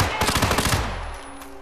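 A burst of rapid automatic gunfire in Hitman 2, loud close shots rattling quickly for under a second before trailing off into a fading echo.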